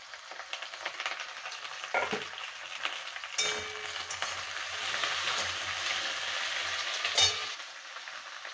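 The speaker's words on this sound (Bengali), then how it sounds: "এবারে কাঁঠালের দানাগুলো দিয়ে দেবো" Jackfruit seeds tipped into hot oil for a village-style Bengali fish roe and vegetable curry, a sudden thump followed by a continuous frying hiss and spatter, close and fairly quiet, with another clunk near the end.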